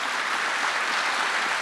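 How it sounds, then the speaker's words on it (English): An audience at a state space summit held at Blue Origin in Kent claps for a panel, a dense, loud, sustained round of applause with no voices over it. "I ask you to applaud our panel."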